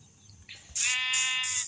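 A single goat bleats, a wavering, nasal cry lasting about a second after a brief rustle, close and fairly loud with no talking.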